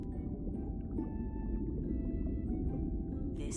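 A whale calls underwater with long, steady tonal moans drifting over a dense, rumbling ocean background that runs throughout.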